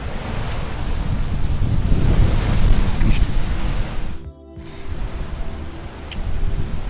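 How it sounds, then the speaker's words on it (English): Broad rushing wind noise buffets the microphone in surges, dropping briefly to near quiet before gusting back, loud and close, in the Ruahine Range. "the wind's gusting around 4 miles per hour"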